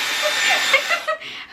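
A Dyson Airwrap hair styler runs with a steady, loud airy whoosh much like a vacuum cleaner, its high hiss holding fairly even before easing down near the end.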